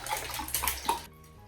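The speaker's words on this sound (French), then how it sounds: "je vais me servir de l'eau, moi" Water pours into a glass at a kitchen table in a short splashing burst of about a second, close and fairly loud, then stops, leaving a quiet room.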